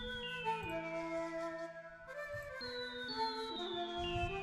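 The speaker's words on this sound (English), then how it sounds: "And again with the flute sounds like this." A flute melody plays over a hip-hop production loop, gliding sustained notes above soft low chords and light percussion, fairly quiet and steady.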